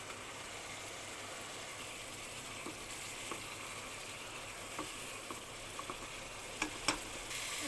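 Prawns sizzle steadily in a pan with puree, a continuous close hiss of frying with a few soft clicks and stirring taps near the end and no talking.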